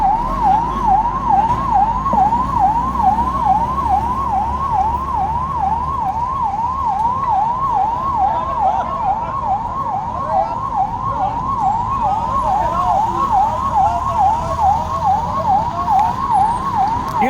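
Fire engine siren near a burning dumper truck and motorbike on a national highway, a loud, steady wailing siren with rapid rising and falling sweeps, continuous and close, over a low engine rumble.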